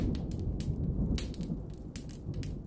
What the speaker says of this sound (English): The thunder is just starting.